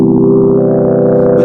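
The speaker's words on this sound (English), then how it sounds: "I am just going to go ahead and add a saturator" A lo-fi house synth pad run through a saturator drones loudly and continuously, a warm, crunchy, slightly distorted sustained chord with no gaps or voices.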